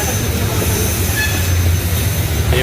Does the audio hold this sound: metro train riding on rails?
yes